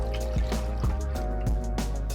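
About a liter of water poured into a pot for Japanese hot pot broth, a steady splashing flow with irregular drips and gurgles, close and moderately loud.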